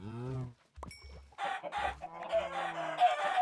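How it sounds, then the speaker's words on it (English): Chickens in a video game cluck and squawk in short, choppy bursts, with a rooster-like crow, sounding slightly synthetic and fairly close. "And then chickens drowning, oh my god."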